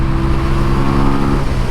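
A motorcycle engine runs loud and close with a steady throbbing drone, the throttle blipped to a brief rise in revs before easing off near the end.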